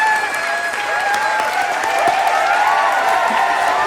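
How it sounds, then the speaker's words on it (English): A crowd applause and cheering sound effect, loud and sustained, with dense clapping and a few whoops that hold steady through the whole stretch. "The crowd goes wild"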